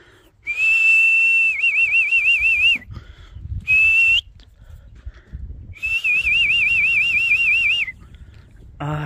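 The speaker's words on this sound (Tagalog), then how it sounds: "pasensya po sa sipol ko" A person whistles loud, high warbling notes in three separate bursts, with pauses between them and faint background noise.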